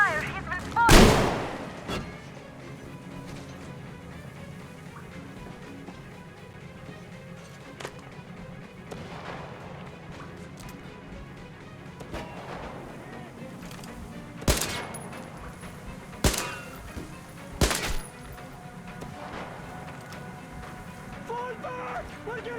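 Gunfire in the video game Metro Exodus, with one loud shot early followed by scattered sharp bursts of shooting amid background game ambience and shouting voices.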